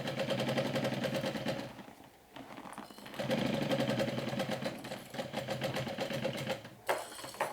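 A sewing machine stitching a backpack pocket closed, running in close, rapid mechanical bursts with a short pause partway through and brief stops near the end, with no talking.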